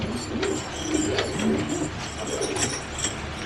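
Racing pigeons cooing softly in a breeding loft, several repeated low coos in a loose rhythm, close by, with faint background clatter.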